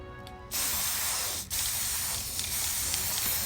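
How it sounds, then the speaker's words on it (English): A spray paint can hisses steadily and close while lightly coating votive cups, starting after a brief pause, with one short break before the spray resumes for a few seconds. "So I'm gonna have to spray lightly"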